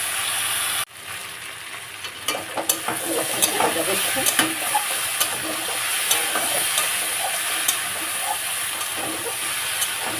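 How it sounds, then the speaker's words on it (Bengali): Taro frying in a pan with shrimp and dried chili powder gives a steady, close sizzle and hiss, broken by scraping stirs, after a brief louder burst at the start. "এই কচু যদি চিংড়ি মাছ দিয়ে ভাজা হয়"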